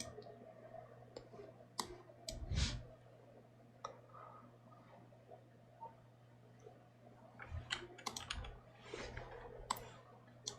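Scattered mouse clicks ring out on a quiet computer desk, single taps at irregular intervals with a brief cluster near the end. They sound faint and close, with no talking.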